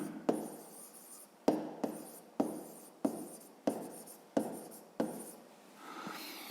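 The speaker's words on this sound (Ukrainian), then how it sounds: "Отже, пишемо розв'язання." A pen handwrites a math solution on paper with close, repeated scratchy strokes in short bursts separated by brief pauses.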